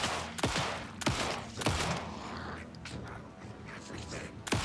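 Gunfire in the video game Alan Wake 2: several sharp, loud shots at uneven intervals, each with a short ringing tail, over low game ambience.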